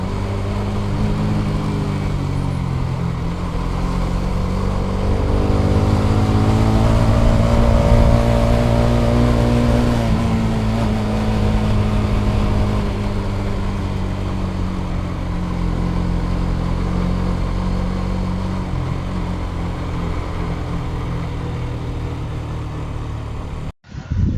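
Three motorbikes climbing a steep mountain road toward an army camp, their engines droning loud and steady with a rising, falling pitch as one nearby machine accelerates and changes gear.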